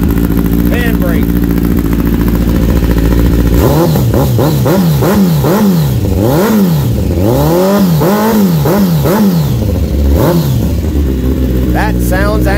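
A 2010 Kawasaki ZX10R sport bike engine idles loudly and then revs hard in repeated rising and falling bursts, its high-pitched exhaust howl close and dominant, with people talking nearby.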